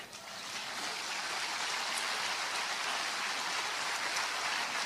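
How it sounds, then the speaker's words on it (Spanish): A church congregation at a Spanish-language sermon applauds for the Lord, a dense, even wash of many hands clapping that swells in and holds steady, moderately distant, with no talk over it. "¿No le pueden dar un aplauso al Señor?"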